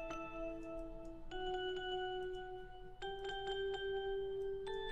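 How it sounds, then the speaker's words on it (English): Soft electronic bell tones in an FL Studio track chime in a slow sequence of sustained notes, each struck note ringing over the last, quiet and clean with a faint background bed and no talking. "So let's go to the bell now. The bells sound like this."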